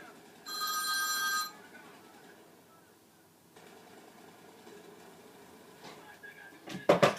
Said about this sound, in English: Sorry, that's my phone going off.